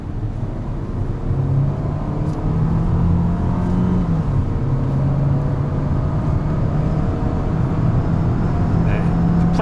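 Engine of a SsangYong Torres SUV pulling hard at full throttle from about 40 km/h, a steady loud drone with rising harmonic tones under continuous talking.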